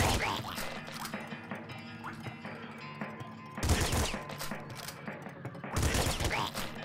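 Shotgun blasts in the video game Nuclear Throne, fired in the sewers, with two heavy clusters of overlapping shots standing out over constant busy game sounds and music.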